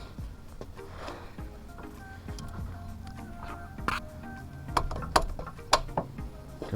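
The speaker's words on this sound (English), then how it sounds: "you take your 3/8 ratchet, put it into the bung," A 3/8-inch ratchet cracks loose a drain bung on a Honda K-series engine, giving a run of sharp metallic clicks and ratcheting ticks, with a few louder snaps near the end, heard close over low workshop background.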